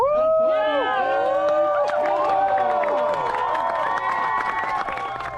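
A crowd at Falmouth Harbour in Antigua cheers, whistles and shouts over steady applause as ocean rowers arrive, with voices calling out through the sustained, fairly distant roar.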